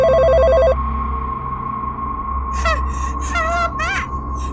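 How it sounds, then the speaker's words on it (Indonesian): A telephone rings inside the Sakura School Simulator game, a steady electronic tone with warbling ring bursts that repeat several times in a row, heard up close over a game background track. "Pak Fir, itu ada telepon."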